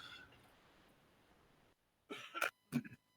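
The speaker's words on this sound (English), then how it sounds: "Clear my throat here." A man clears his throat twice in short, rough bursts after a stretch of quiet background hiss, close to the microphone during a football talk broadcast.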